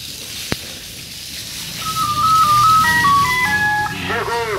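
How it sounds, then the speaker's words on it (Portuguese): A gas delivery truck in Bambuí, Maricá, Rio de Janeiro, plays its electronic jingle melody, a simple tune of clear beeping notes rising over steady outdoor background noise, fairly loud and nearby. "Chegou o carro do gás."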